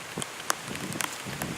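Rain falls outdoors at a shooting range, a soft steady patter with scattered sharper drops landing on nearby surfaces, close and fairly quiet, with no voices.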